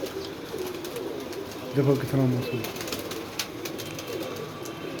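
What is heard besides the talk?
pigeons cooing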